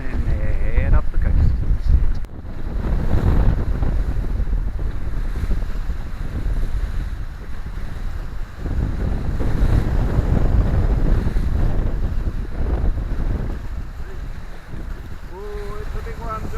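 Wind rushes loudly and steadily over a Seawind 1000 catamaran sailing at about 7 knots along the coast, a broad roaring buffet that dips briefly once before surging back, with a voice near the end.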